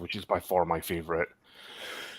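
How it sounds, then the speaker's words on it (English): A man coughs once, briefly, close up right after he finishes speaking, followed by quiet room noise. "excuse me for coughing in your ears"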